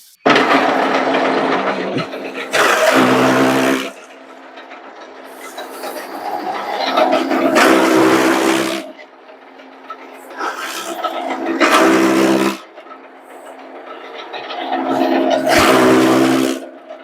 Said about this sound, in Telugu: ఇప్పుడు నేను షార్ట్ గేర్లు అయితే పెట్టి ఇంజిన్ అయితే రన్ చేస్తున్నాను